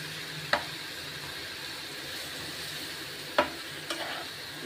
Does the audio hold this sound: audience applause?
no